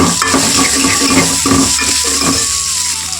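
Food frying and being stirred in a pan as salt goes in, a steady loud sizzle with scraping stir strokes throughout, no talking.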